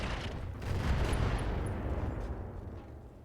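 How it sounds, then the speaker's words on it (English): Incendiary missiles launch in the Battletech Roguetech mod, a dense rumbling salvo of blasts that swells and then slowly fades, loud, with no talking. "Incendiary missiles go."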